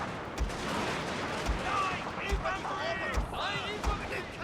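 Repeated heavy booming artillery cannon shots in Total War: Shogun 2 – Fall of the Samurai, roughly every second, ring out over a noisy battlefield din with whistling and crackling effects, while a voice talks throughout.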